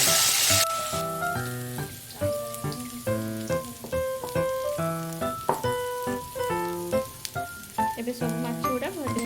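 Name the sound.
fish frying in hot oil in a kadai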